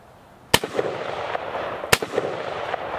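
Two sharp, loud Armalite AR10 rifle shots about a second and a half apart, each a hard crack followed by a short echoing tail outdoors.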